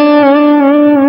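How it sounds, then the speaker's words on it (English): A sustained electric guitar note pushed down with the tremolo (whammy) bar, wavering slightly as the bar dips the pitch below and back, loud and alone with no talk. "Otherwise, if it's just knocking it down,"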